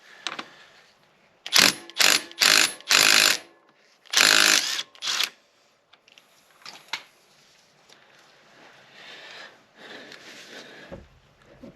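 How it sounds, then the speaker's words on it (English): Tools working on a Suzuki DR350 motorcycle to remove the kick lever: four quick, loud ratcheting bursts followed by a longer burst, then fainter scattered clicks and scrapes. "next task, we'll get this kick lever off."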